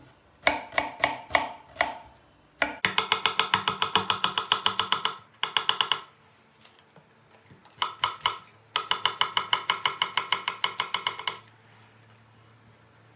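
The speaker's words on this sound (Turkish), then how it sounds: "Hemen bir tane de soğan doğrayacağız." A knife chops an onion on a cutting board in rapid bursts of sharp, close taps, separated by short pauses, with no talking.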